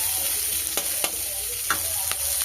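Onions with ginger and garlic frying in a pan, a steady broadband sizzle with a few sharp scrapes of a spoon stirring through it, close and even, no voices.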